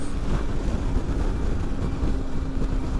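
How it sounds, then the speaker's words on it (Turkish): A constant, heavy rush of wind roars over a steady low engine drone while riding a motorcycle at speed on the road, loud and unbroken throughout. "Aşırı rüzgarlı bir yoldan gidiyoruz."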